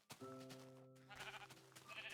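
Sheep in Minecraft bleat a few times in quick succession, close and clear, with no speech in between.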